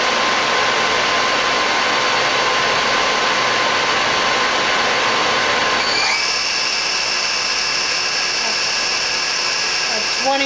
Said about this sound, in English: Now we're going to go over and run the sub spindle.